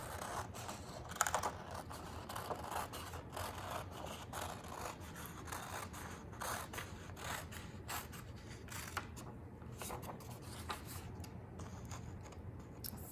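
Scissors cut out a paper watermelon in a preschool classroom lesson, a steady run of quick, close snips and paper rustling over faint room noise.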